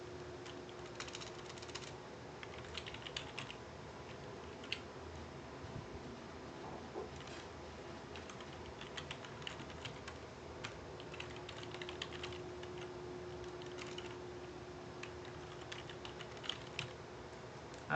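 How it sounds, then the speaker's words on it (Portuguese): Typing a password on a computer keyboard during a server software setup: steady, fairly quiet key clicks in irregular bursts over a low continuous hum, with no talking. "Deixa eu digitar a minha senha."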